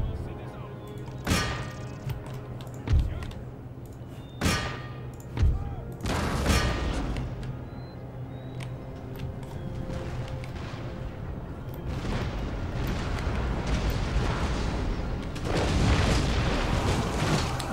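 Artillery firing quicklime shells in Empire: Total War sends several separate deep booms early on, then a dense rumble of battle noise builds, while a voice talks over it.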